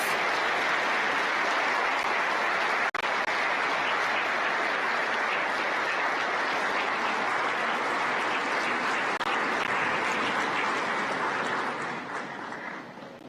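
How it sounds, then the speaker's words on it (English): Loud, sustained applause from a large conference audience at Mobile World Congress in Kigali as President Paul Kagame departs, a thick continuous roar of clapping lasting over ten seconds before tapering off. "Ladies and gentlemen, a round of applause as His Excellency departs."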